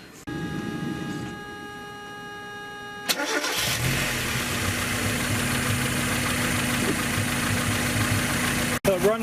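A low-mileage 1994 Mazda MX-5 Miata engine starts after a quiet stretch and settles into a steady, smooth idle, heard close up with a continuous running drone and a possible faint bearing noise from the timing sensor.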